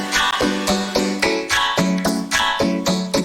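Vocoder beatboxing with a long reverb of about three seconds decay, low cut at 600 Hz: a punchy rhythmic pattern of about nine pitched, synthetic vocal hits over three seconds, each tail washing into the next.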